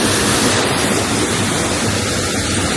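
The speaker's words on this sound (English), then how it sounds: "A full river today." A full river flowing, heard up close as a steady, dense rushing of water that holds at an even loudness throughout, with no voices.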